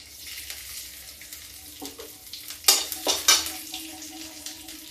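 Garlic sizzles softly in hot mustard oil with bay leaf, cumin and black pepper, with a few sharp clinks and scrapes of a spoon stirring the pan. No one speaks.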